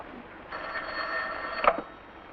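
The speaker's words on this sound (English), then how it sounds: "Answer that phone." An old-fashioned telephone bell rings in a steady, moderately loud trill in a 1940s film interior, with faint background hiss throughout.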